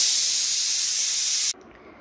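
A pressure cooker cooking rice releases a loud, steady steam hiss that stops sharply after about a second and a half, leaving near silence.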